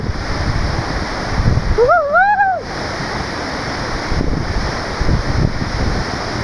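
Hebbe Falls waterfall in Chikmagalur roars as a steady, loud broadband rush throughout, with a brief whistling or vocal sweep cutting across it near the start.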